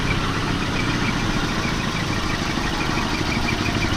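A Volvo 740 engine with a small exhaust leak idles just after starting, giving a steady, even, close-up drone with no voices.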